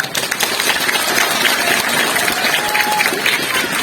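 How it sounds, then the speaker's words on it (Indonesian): Students and guests at an Islamic boarding school's independence oration event applaud loudly, a close, dense clatter of clapping with some crowd noise mixed in, steady throughout. "Tepuk tangan."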